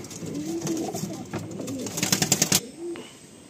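Soft pigeon cooing from Madrasi pigeons in a loft repeats in low rolling phrases, with a burst of fluttering or shuffling midway and a final coo near the end.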